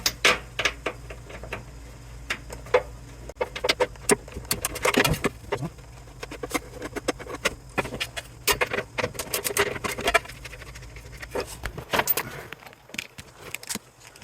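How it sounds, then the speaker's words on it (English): Nuts being spun off the tow hook studs of an NA Mazda Miata being prepped as a Spec Miata, a busy patter of small metallic clinks and jingles, close and irregular. "Pull the 2 nuts off."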